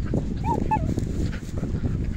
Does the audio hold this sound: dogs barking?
yes